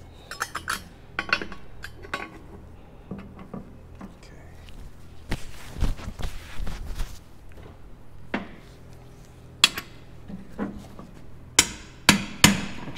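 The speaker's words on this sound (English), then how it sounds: "Make sure you hammer it in evenly," A new bearing is hammered into a Honda K-series transmission case with sharp metallic strikes, some in quick clusters and some spaced apart, among clinks and handling noises.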